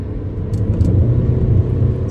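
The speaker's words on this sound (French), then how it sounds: "Gros bruit de soufflerie, de turbo." A Mercedes CLA 250 turbo accelerating, heard as a loud, close, steady low engine rumble with faint airy turbo and blower rush above it, no talking.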